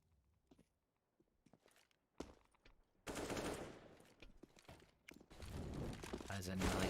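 Gunfire from the video game Counter-Strike during an esports match: quiet shuffling sounds give way to loud, sustained bursts of rapid shooting that continue to the end.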